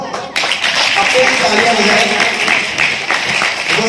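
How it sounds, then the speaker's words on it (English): An audience claps at a father's retirement celebration, a loud, steady patter of many hands that starts suddenly and keeps going, with voices mixed in among the crowd. "I request you all to kindly clap for yourselves."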